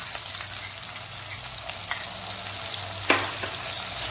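Sauce with tomato puree, pepper and chilli paste sizzles and fries steadily in a pan, a close, even crackling hiss with a brief stir or clink partway through.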